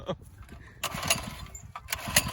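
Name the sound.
mini bike engine running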